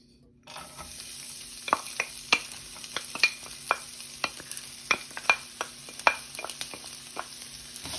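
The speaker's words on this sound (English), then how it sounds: "So I'm starting off with my onion and garlic. Letting it saute for about 2 minutes." Onion and garlic sauté in a pan with a soft background sizzle, while a spatula knocks and scrapes against the pan in repeated sharp taps spread irregularly across the stretch.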